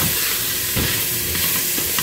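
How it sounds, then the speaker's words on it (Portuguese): Chopped onion sautéing in a pan, a loud continuous sizzle with scraping stirs, close and steady, no voices. "Vou deixar a cebola dar uma refogadinha aqui também"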